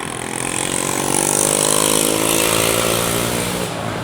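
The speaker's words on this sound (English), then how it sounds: "I think his motorbike is broken." A broken-down motorbike engine runs steadily and loud at close range on a busy street under road construction in Da Nang, Vietnam, its rough, buzzing drone holding constant throughout without any talk.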